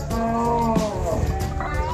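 Local cattle at a livestock market low and moo steadily over a dense crowd murmur, a close, continuous bellow that shifts pitch partway through the moment.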